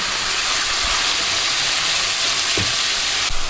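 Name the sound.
carrot and cabbage being stir-fried in a pan for soup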